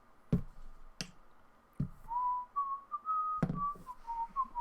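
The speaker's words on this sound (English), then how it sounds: "Strong whistle, though." A person whistles a sliding, wavering tune close to the mic, with a few sharp snaps or taps before and during it. There is no talking.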